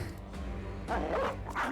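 Dog barking in the video game Battle Brothers, a few short sharp barks in quick succession, clear and moderately loud over a low game ambience.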